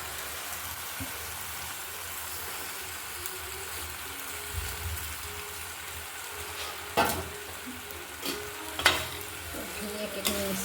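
Boiled pasta tossed into a frying pan and stirred, a steady hiss of frying with scattered clinks and louder scraping stirs toward the end, nearby, no one talking.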